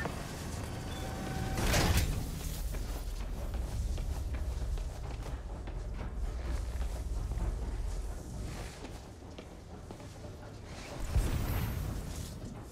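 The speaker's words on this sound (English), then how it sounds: "I'm opening the door." Door in a Roxxon security area opening in Spider-Man: Miles Morales, a sliding mechanical whoosh and thud near the start and another near the end, over a steady low game ambience.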